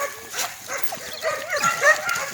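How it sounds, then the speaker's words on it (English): Dogs barking and yipping in a cow farm yard, several short barks at moderate distance over outdoor background noise. "I'm sorry if y'all hear the dogs barking."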